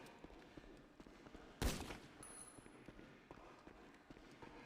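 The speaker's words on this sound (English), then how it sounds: "I heard shots." A single sharp, loud gunshot cracks out in GTA V against a quiet, faintly noisy background, followed by a few soft scattered thuds.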